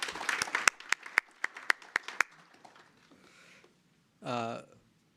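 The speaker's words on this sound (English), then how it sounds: "a big round of applause for all yourselves" A short burst of applause in a hall: a dozen sharp, evenly spaced claps, close and loud, fading into a softer patter. A brief voice follows after a pause.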